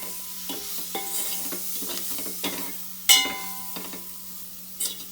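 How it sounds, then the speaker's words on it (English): A spoon stirs tomatoes and masala roasting in a pan, the soft sizzle running under scattered scraping knocks and a few sharper clinks of the utensil against the metal. "So I'll just roast it till this tomatoes become soft"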